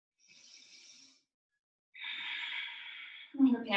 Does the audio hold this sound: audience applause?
no